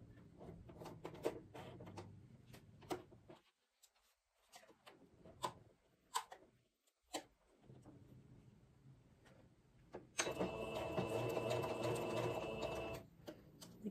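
A domestic sewing machine stitches and backstitches an invisible zipper, with short bursts of close mechanical clicking and ticking, pauses between, then a sustained run of rapid stitching.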